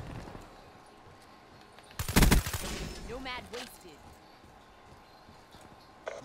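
A suppressed Kuda submachine gun with rapid-fire fires a short, sharp burst in Call of Duty: Black Ops III multiplayer, followed by brief game voice callouts over a low background hum.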